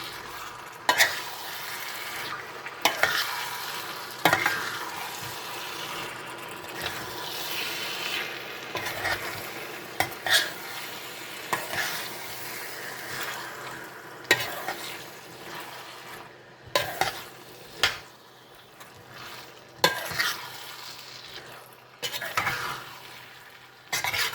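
A spoon scrapes and stirs chopped, salted lemon in a sizzling frying pan, with faint, continuous frying under repeated soft scraping knocks.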